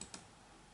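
Two quick, faint keystrokes on a computer keyboard, soft clicks in a quiet room followed by near silence.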